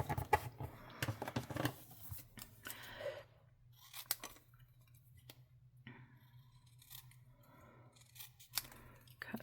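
Scissors snip through red paper while a winter card is being made: a close, quiet series of crisp, irregular cutting clicks and rustles with short pauses between them, over a faint low steady hum.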